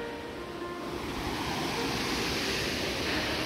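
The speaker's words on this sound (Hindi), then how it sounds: "यहाँ पर देख सकते हैं वहाँ पर ये झरने का पानी गिरता हुआ" Telhar Kund waterfall in Kaimur, Bihar: a steady, full roar of falling water, broad and continuous with no breaks, close and loud, with no voices over it.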